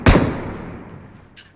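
A single loud gunshot in a video game, with a sharp near blast at the start that rings out and decays over more than a second, followed by a faint brief rustle near the end.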